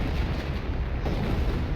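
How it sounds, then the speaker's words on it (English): Heavy artillery barrage in Company of Heroes rumbles as a dense, low, continuous roar of distant explosions blending together, loud and unbroken for a short stretch. "And here comes the heavy artillery."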